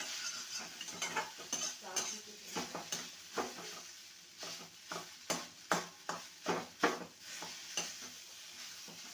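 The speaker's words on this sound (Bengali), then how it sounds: "ভালো করে ভেজে নেব" Pieces of bottle gourd leaf chapor fried in a pan, with a soft background sizzle and a run of distinct spatula scrapes and taps that come faster and louder in the second half, close up with no speech.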